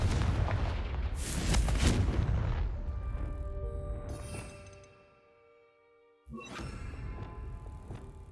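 The Confringo spell is cast in the Hogwarts Legacy video game, producing heavy booming blasts with crackling tails, a quieter lull, then a sudden sharp burst of another impact near the end.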